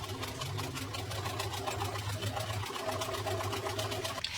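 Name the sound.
sewing machine stitching old work pants for pet bed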